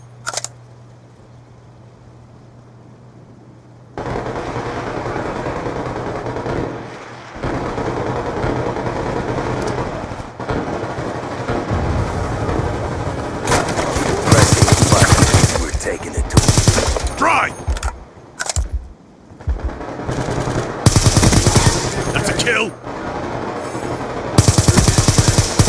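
Heavy gunfire in Call of Duty Black Ops II, bursts of automatic fire that grow denser and louder in the second half, loud and close, mixed with game effects and occasional voices.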